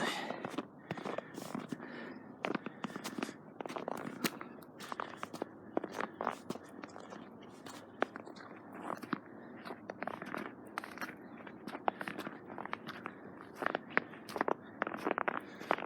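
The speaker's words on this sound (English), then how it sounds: "Now instead of hearing leaf ruffle, you're hearing the crunching of snow." Footsteps crunch steadily through snow on a wooded hiking trail near Columbus, Ohio, each close, crisp step falling in an uneven walking rhythm with no talk.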